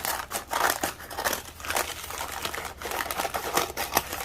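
Scissors cut open a small piece of material being upcycled into a plain journal cover, giving steady close crinkly snips and rustling crunches that run continuously with no talk.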